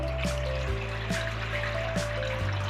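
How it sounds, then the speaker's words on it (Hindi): Water poured into a cooking pot while preparing mutton karahi, a continuous trickling fill with faint clinks and a low steady hum underneath, close by and unbroken for the whole stretch. "तो सबसे पहले हमें इसमें पानी ऐड कर देना है"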